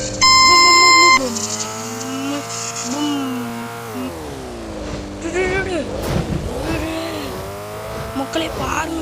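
A racing car engine in a racing video game revs and whines through shifting pitches, with tire noise and rising, falling engine tones filling the whole stretch.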